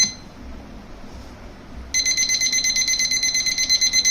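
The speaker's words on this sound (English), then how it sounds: "The alarm goes off." A Winner Loudstar W-104A stop clock timer alarm starts beeping abruptly about halfway through, a rapid, steady electronic beep pattern repeating until the end, loud and close.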